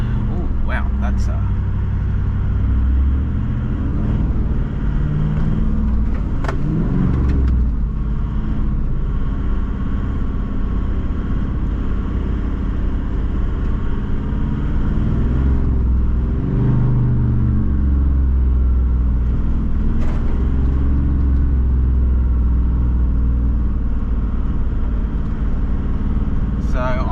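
Toyota 79 series 4WD on an overgrown bush track, its engine rumbling and rising under acceleration with brush scraping the body, steady and close throughout while people talk inside the cab.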